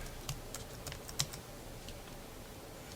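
A catalog name being typed on a computer keyboard: a short run of light key clicks at an uneven pace, close but quiet, with one sharper keystroke partway through.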